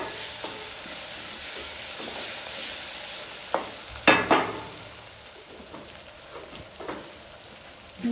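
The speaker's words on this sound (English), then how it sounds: "Now I'm going to fry this until it forms a rough paste." Bell peppers and onion with a seasoning cube fry down into a rough paste, giving a soft continuous sizzle broken by several sharp spatula scrapes and knocks against the pan.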